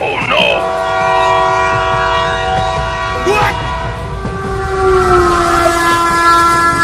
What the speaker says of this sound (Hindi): उधर से एक और ट्रेन आ रही है